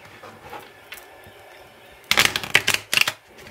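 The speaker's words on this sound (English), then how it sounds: "One more shuffle." A deck of tarot cards is shuffled close by, with soft handling at first and then a loud rapid riffle of flicking cards in several quick bursts.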